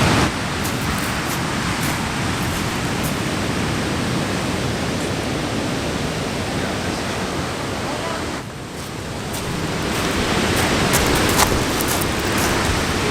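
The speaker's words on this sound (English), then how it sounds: "Those waves are massive." Big ocean waves crash along the rocky Washington coast, a loud, constant roar of surf close by that dips briefly and then swells back up, with no talking.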